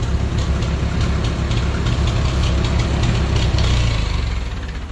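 A Ford 9N tractor engine idles steadily up close, a dense, even low rumble with a faint knocking rhythm, heard alone without talk.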